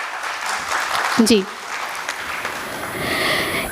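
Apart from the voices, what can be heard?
audience applause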